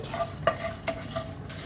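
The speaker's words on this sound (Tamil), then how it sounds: "மட்டன் கொதிக்குது" Mutton for a Bakrid goat-curry feast bubbling and sizzling in a pot, with soft steady frying hiss and a few brief clinks or stirs, close and moderately quiet, no talking.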